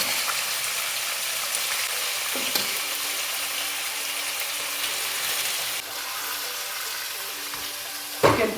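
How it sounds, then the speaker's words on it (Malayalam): Marinated chicken sizzles and fries steadily in a pan on full flame with garam masala, for pepper chicken curry; a constant close crackling hiss with occasional stirring clinks and a sharper clatter near the end. "നമുക്ക് ഫുൾ ഫ്ലെയിമിലിട്ട് നല്ലതായിട്ടൊന്ന് ഇത് ഫ്രൈ ചെയ്തെടുക്കാം"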